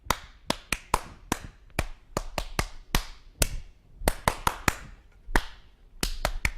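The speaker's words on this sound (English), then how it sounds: "get your clapping hands ready. Clap, be my echo again." A child claps hands in rhythm, echoing a pattern: sharp, close, isolated claps in irregular groups with short pauses between, clean and alone with no talking.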